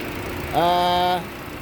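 A front-wheel-drive 2014 Chevrolet Spin 1.5 LTZ automatic with a 1500 cc four-cylinder engine idles under its open hood. A low, steady hum runs throughout, with a brief louder tonal swell in the middle.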